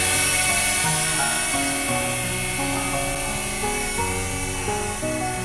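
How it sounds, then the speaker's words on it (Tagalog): DJI drone flying nearby, a loud continuous high-pitched whine of buzzing rotors with shifting tones as it manoeuvres, heard alone without talk. "Drone."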